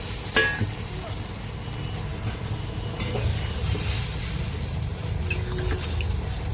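Prawns frying in a pan hiss and sizzle steadily after water is added, with occasional stirring scrapes close by.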